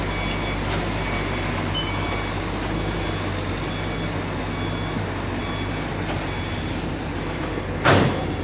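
Repeated high reversing beeps at steady intervals from a truck hauling sheet piles at a river normalization construction site, over a constant heavy engine rumble, ending with a short loud burst near the end.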